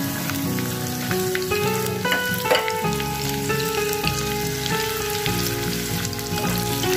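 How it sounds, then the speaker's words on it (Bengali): Garlic and onion frying in a pan, added to a khichuri tempering, give a steady, close sizzle that runs the whole time, with light clinks and stirring over a dense crackling hiss. "এখন আমি রসুন আর পেঁয়াজটাও ছেড়ে দিলাম।"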